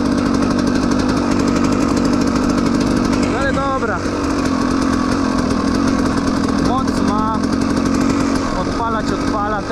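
A loud, buzzing KTM SX 250 dirt bike engine runs steadily throughout, close up, with a few brief rises in pitch like light revving; faint voices can be picked out underneath.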